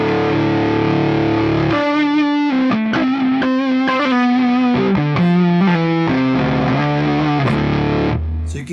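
An electric guitar played on the neck pickup runs through a high-gain amp-in-a-box distortion pedal. It gives thick, saturated, sustained notes and chords, moving through a phrase with loud, compressed sustain before trailing off.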